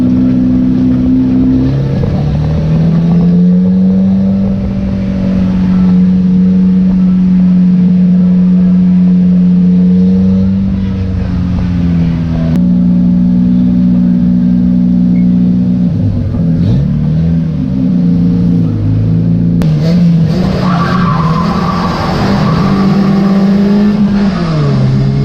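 Stock cars at Cowdenbeath Racewall roar off the start, engines revving hard and holding a loud sustained drone, with shifting pitch as the pack accelerates and another surge of revving near the end.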